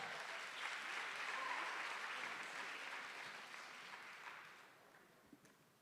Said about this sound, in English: Again, giving them a round of applause.